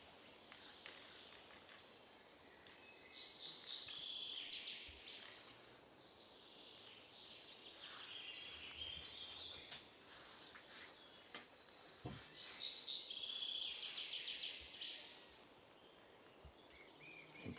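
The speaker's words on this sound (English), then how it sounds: "today also we get to hear these beautiful sounds of the birds singing in the forest" Birds chirp in a forest at a mountain bike orienteering race, with high, quick trilling phrases repeating in bursts over a quiet, hissy background and no talking.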